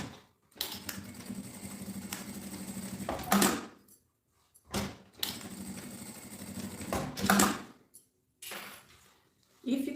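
A sewing machine stitches a backpack strap seam in two close, steady bursts of rapid mechanical whirring, each lasting a few seconds and separated by pauses with brief fabric handling.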